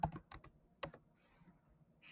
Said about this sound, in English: let's type all that in there now